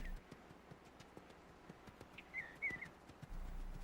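Hooves of wild horses clip-clop in a steady, soft rhythm on open ground as herd stallions stand guard over their mares, with a brief bird-like whistle partway through, quiet and fairly distant.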